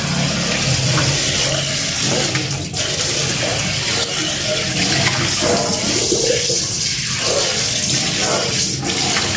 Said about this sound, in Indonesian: setelah kita saring, kita cuci dulu si baskomnya yang kita merendam semalam.